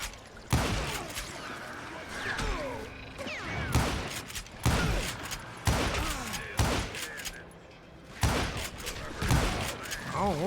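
Gunshots in the Western video game Call of Juarez Gunslinger: loud, sharp shots spaced every second or two, some in quick pairs, with mechanical clicks and voices between them.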